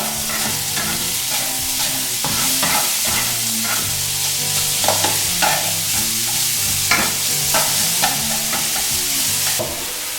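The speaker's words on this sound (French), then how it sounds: "Donc maintenant je rajoute l'oignon. Que nous allons faire rissoler quelques instants." Onion sautéing in a hot pan for Mediterranean chickpeas gives a loud, continuous sizzle, broken by repeated spoon strokes and scrapes across the pan, close up and with no talking.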